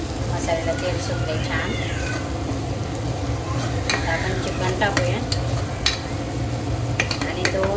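Masala for a chicken curry roasting and being stirred in a pan, with a steady close sizzle and scraping throughout while a voice talks intermittently over it.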